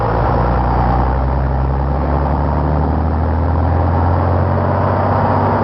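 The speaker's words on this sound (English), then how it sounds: "Then the yardman drives the truck to the checkout station." A 1950s truck driven slowly around a freight terminal yard, its engine giving a steady, loud low rumble with no clear revving, alone without voices.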